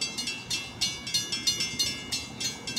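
A DART commuter train passes nearby, with a steady run of rhythmic clacking bursts about every quarter second as the cars roll over rail joints, moderately loud with no talk.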